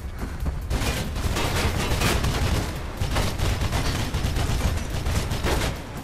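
Dense, continuous gunfire in the Mirror's Edge video game, rapid overlapping shots and bursts close and loud throughout, with no talk.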